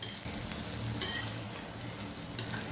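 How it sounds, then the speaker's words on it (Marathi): Eggplant and masala paste stirred and fried together in a pan over low heat, a steady close sizzle with a couple of sharp scraping clinks of the spoon against the pan. "1 ते 2 मिनटं मसाला छान परतून घेऊया"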